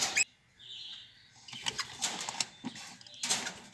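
A rosella bird leaving its nest, heard as a burst of soft, close wing flaps followed by light fluttering and rustling, faint and brief in a quiet setting.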